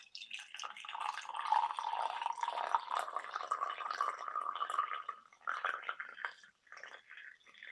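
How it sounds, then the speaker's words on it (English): Hot water poured from a kettle onto a dandelion tea blend in a container, giving a continuous bubbling, trickling pour for several seconds that pauses briefly and resumes near the end. "So now I'm just going to pour my hot water in here."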